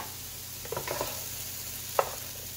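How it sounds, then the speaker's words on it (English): Soy sauce and pepper are mixed into sizzling fried rice in a pan, with a few brief scrapes and one sharp clink over a steady low fry, close by. "And then we just mix that in."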